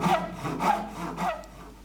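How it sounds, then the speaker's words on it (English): Three slow, rasping back-and-forth strokes of a hand saw biting through a wooden dowel, close by, with short pauses between each pass. "Then gingerly start sawing."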